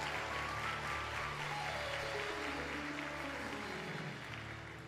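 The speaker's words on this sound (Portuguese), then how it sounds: "Você pode aplaudir o Senhor por causa de você" A church congregation applauding, a dense wash of clapping that holds steady and then starts to fade toward the end, somewhat distant, with no talking over it.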